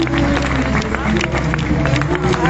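An audience at a Christmas show applauds street dancers, with dense steady clapping and crowd babble sustained throughout over a low musical hum.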